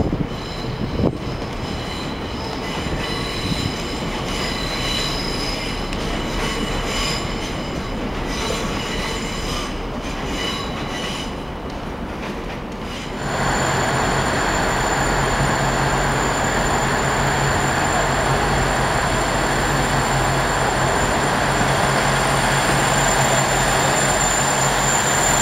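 A train at London Waterloo station bound for Salisbury rumbles loudly and steadily with faint wheel squeal, then shifts into a stronger, fuller rolling roar midway.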